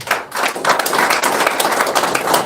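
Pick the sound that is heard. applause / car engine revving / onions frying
applause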